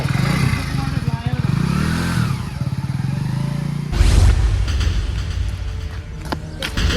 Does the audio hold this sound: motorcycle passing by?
yes